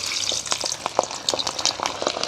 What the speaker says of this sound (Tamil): இப்படியே நாங்கள் கொதிக்கிற எண்ணெய்க்கு போடுவோம்.